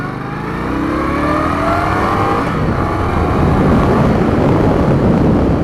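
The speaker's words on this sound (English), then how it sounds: "Yeah, this bike will get up and move. It's definitely got some jump off the line." A 2018 Indian Scout Bobber motorcycle engine pulls hard off the line, its loud exhaust roar building steadily and continuing strongly under rising wind noise.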